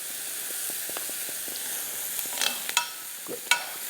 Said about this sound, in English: fry these onions and give them a little bit color.